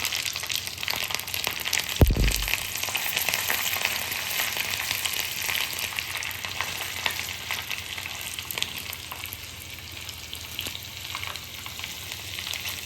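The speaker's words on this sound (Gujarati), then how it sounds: "રાઈ ફૂટવા લાગે એટલે આપણે એમાં લીલા મરચાં નાખી દઈશું" A steady, close sizzle of green chillies frying in tempering oil with mustard seeds continues throughout, with a brief thump near the start and faint crackles scattered across it.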